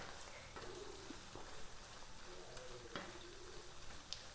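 Chicken liver pepper fry with sour tamarind or lemon is stirred in a hot pan, giving soft scraping strokes and quiet clicks over a constant faint sizzle of frying, close but low in level.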